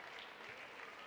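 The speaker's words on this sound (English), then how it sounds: "Crowd showing their appreciation for this effort from Kent State tonight" A college basketball crowd at a Kent State game applauds, a short burst of dense, even clapping heard from a distance in the arena.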